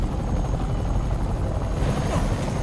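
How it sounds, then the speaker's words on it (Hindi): In the video game Marvel's Spider-Man, the criminals' helicopter drones steadily nearby, a continuous low rotor thump and engine buzz with no talk over it. "वहां पे हमारा हेलीकॉप्टर इंतजार कर रहा है।"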